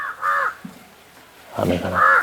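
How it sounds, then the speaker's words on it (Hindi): A crow caws loudly nearby, two harsh calls separated by a pause, with a voice speaking briefly between and over them. "कौआ भगाओ, अरे कौआ मार के भगाओ ना ढेला से यार"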